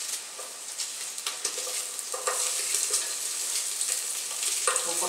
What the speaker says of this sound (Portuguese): eu vou colocar a cebola e o alho aqui, tá, na panela, pra refogar junto com a carne seca